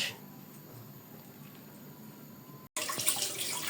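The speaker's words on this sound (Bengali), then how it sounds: "এখন মাংসগুলোকে সুন্দর করে ধুয়ে নেওয়া হচ্ছে" Tap water runs steadily as raw layer chicken pieces are rinsed in a sink, a constant close hiss that cuts out briefly near the end, then returns louder with splashing.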